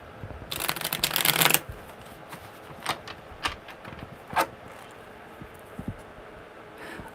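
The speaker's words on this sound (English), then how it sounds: "Okay, one more good shuffle." Tarot cards shuffled in a quick riffle burst that builds to a dense flutter and stops, followed by a few scattered soft taps and card handling sounds in a quiet room.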